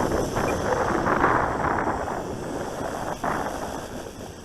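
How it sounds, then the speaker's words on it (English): Gusty wind at an outdoor park buffets the microphone, a rough low rumble that swells and eases over a few seconds, with no voices. "the wind's just been picking up"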